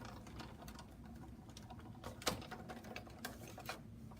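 A Softly Falling embossing folder with cardstock is cranked through a die-cutting machine, giving quiet mechanical clicks and grinding with a couple of sharper snaps, faint and close.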